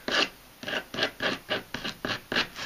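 Edge of a wooden old-school fingerboard being smoothed by filing or sanding, eight quick rasping back-and-forth strokes in a steady rhythm, close and fairly loud, with no talking.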